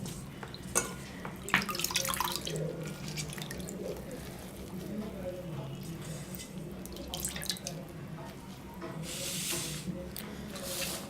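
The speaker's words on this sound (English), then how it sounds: "take out the pulp, drain the excess water" Excess water drains from soaked newspaper pulp for papier-mâché, with intermittent drips and trickles, small splashes and handling noises over a steady low background hum.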